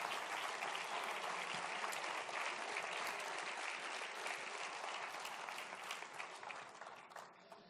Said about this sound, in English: Thank you, big applause.